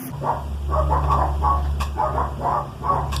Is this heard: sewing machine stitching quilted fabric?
no